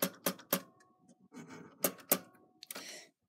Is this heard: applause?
no